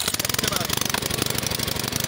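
A small gasoline tiller engine used for ploughing fields runs in a loud, steady, rapid chugging drone, close by and continuous throughout.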